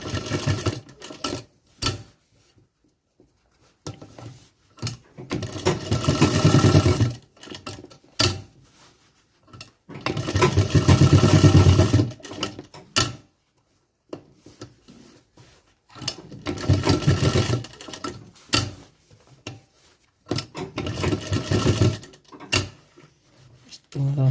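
Cloth is stitched on a tailor's sewing machine in repeated bursts of fast mechanical whirring, broken by brief pauses and clicks, with a voice speaking at times between runs.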